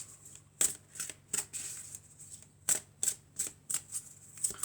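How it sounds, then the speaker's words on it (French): Tarot cards being shuffled by hand before one is drawn for a general and love reading, heard as a series of crisp, close riffling bursts with short pauses between them and no talking over them. "Allez, on va prendre encore une carte."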